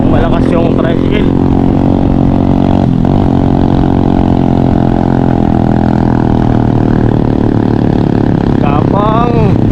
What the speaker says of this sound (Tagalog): Tingnan natin kung malakas yung tricycle.